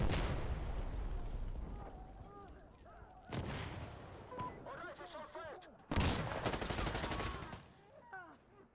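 AK-74U rifle gunfire in the tactical shooter Insurgency Sandstorm, with sharp loud shots and bursts punctuating distant battle noise and scattered voices, two heavy blasts standing out near the middle and later.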